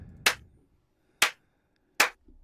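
Three single hand claps, sharp and isolated, spaced about a second apart, with quiet in between and no talking.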